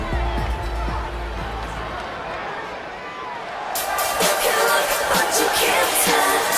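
An arena crowd at a WWE Portugal wrestling show roars and cheers, with loud broadband cheering building and swelling in the latter half under steady hubbub.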